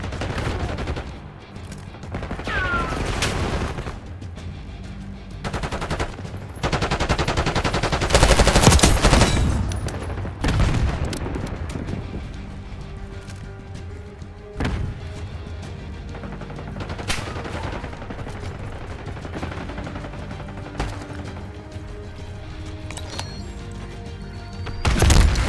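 Rapid machine-gun bursts and scattered gunshots fill a Call of Duty: Black Ops 6 firefight, loud and close, with repeated volleys and sharp single cracks throughout.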